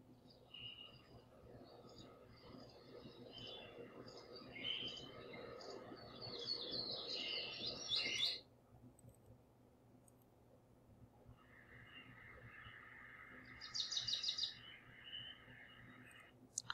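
Quiet forest ambience sound effect: a soft, steady background with scattered bird chirps and calls, a busier flurry of tweets in the middle and another short burst near the end.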